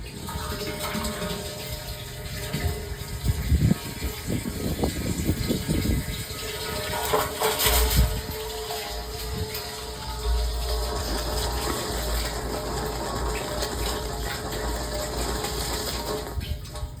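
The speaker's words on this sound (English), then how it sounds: "Now we can get rid of all the water in that coil." Water drains out of the coil of a wort chiller on a brewing setup, heard as a continuous rushing and gurgling flow that is joined by intermittent mechanical clicks and clunks partway through, with no voices.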